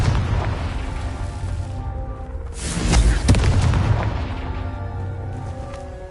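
Confringo fire spell blast in the video game Hogwarts Legacy, a deep booming explosion that swells around the midpoint over a steady rumbling game soundscape, with no voices.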